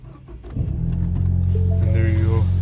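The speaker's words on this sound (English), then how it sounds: "Car is started." A 2017 Ford Mustang engine cranks briefly and catches, then settles into a loud, steady idle close by that holds to the end.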